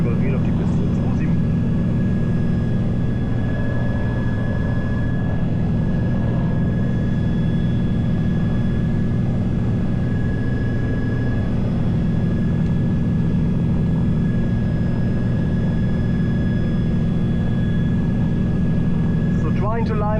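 A 1960 Beechcraft Twin Bonanza twin-engine plane sits on the runway, its engines giving a loud, steady droning hum heard from inside the cockpit, with the constant tone holding throughout.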